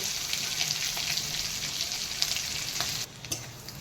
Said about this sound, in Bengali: এই রসুনগুলো আমার ফ্রাই হয়ে গেছে ব্রাউন কালার হয়ে গেছে